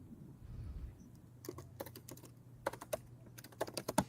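Clicky computer keyboard typing comes in quick irregular bursts of keystrokes, faint and close, over a low steady hum during an online stream.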